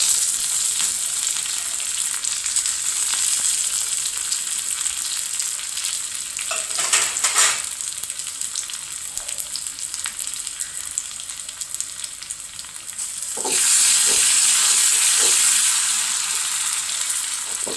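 Steady, loud sizzling of onions and chilies frying in a pan, with a few stirring scrapes and a sharp surge of hissing partway through as more goes in; no talking.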